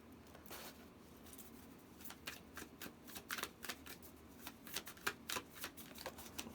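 Tarot cards are shuffled and handled up close, a soft flurry of papery riffles and taps that grows busier and louder toward the end, with no talking over it.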